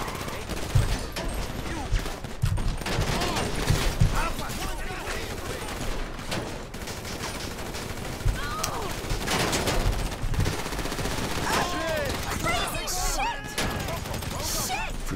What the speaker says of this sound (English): They started shooting at them.